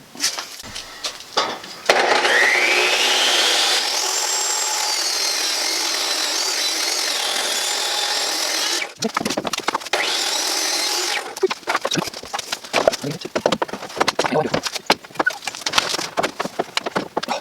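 A power saw rips lengthwise through a 2x4 board for a camper shell build-out, whining loudly and steadily for about seven seconds, then giving way to clattering and knocking handling noises.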